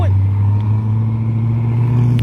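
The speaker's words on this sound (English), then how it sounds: "Just missed the Chevelle leaving." A Chevrolet Chevelle pulls away from a Cars & Coffee meet, a deep, steady, fairly close V8 rumble holding throughout the moment.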